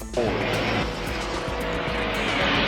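A race car roaring close past on a circuit during the World Time Attack Challenge Open Class, its engine loud and steady with a slight pitch sweep as it goes by, no talk.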